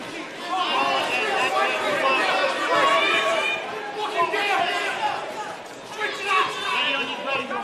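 Boxing crowd at a Fano Kori vs Ryan Daye bout, a steady loud roar of chatter and shouting that swells and dips throughout without a break.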